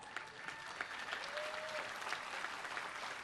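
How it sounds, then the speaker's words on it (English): A room full of people applauds steadily at a university undergraduate commencement, an even, continuous patter of clapping at moderate distance, fairly quiet overall. "We'll give you a round of applause"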